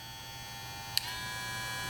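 JRL 2020c hair clipper motor running, a steady close electric whine and buzz with a brief click midway as the speed setting changes, no talk.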